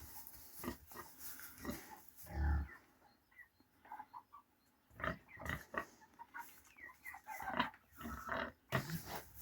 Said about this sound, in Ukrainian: Ось свинтуси наші.